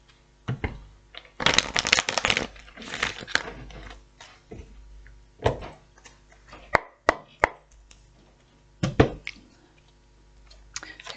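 Tarot cards are riffled and shuffled in several quick bursts, with soft taps and slaps between them, close and fairly quiet.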